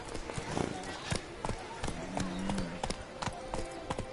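A horse galloping in the video game The Witcher 3, steady quick clip-clop hoofbeats at close range running throughout, with voices talking over the hooves.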